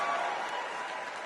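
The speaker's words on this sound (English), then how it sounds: "the people are just there clapping" Audience applause at the Democratic National Convention, a dense, steady wash of clapping from a large crowd at moderate distance, continuous and even without any speech over it.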